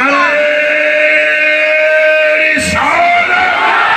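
A crowd at a religious gathering shouts its response to a slogan chant in a loud, drawn-out bellow. The shout breaks briefly, and then a second sustained yell rises.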